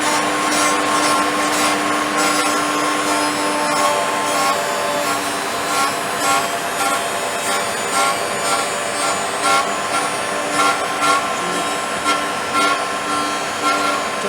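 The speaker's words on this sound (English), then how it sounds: "Now we'll wind our router in." A router cuts into wood while a vacuum extractor runs, giving a steady loud whine and hiss with a repeated rasping, pulsing texture throughout and no talk.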